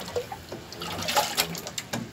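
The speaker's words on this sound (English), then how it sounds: "Now the waves are being generated." Water sloshes in a small science fair wave-energy model. Faint, light splashes and trickles come in short irregular bursts close by.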